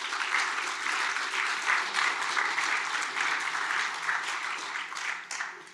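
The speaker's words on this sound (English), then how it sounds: "Let's clap." Sustained audience applause at a hackathon closing ceremony in Kraków, dense and steady clapping from a crowd holding at a fairly even level for about six seconds before easing slightly at the end.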